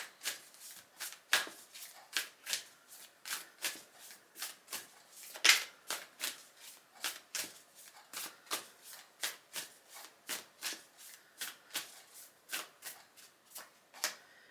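Oracle cards are shuffled close up in a steady run of crisp riffling snaps, repeating about twice a second for the whole stretch, with no talking.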